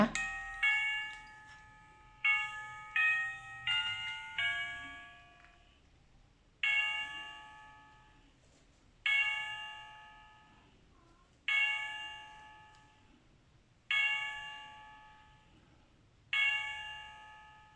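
A battery mini cuckoo clock plays the Westminster chime: clear, bell-like tones struck one after another in a slow melody, each ringing out and fading before the next.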